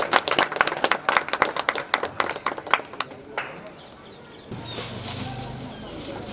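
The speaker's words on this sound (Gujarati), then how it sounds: "આપણે તાળીઓના ગડગડાટ સાથે વધાવીએ." An audience at a library inauguration in Mahudiyapura breaks into dense, lively clapping for about three seconds. The applause then thins to a few scattered claps over a quiet room murmur.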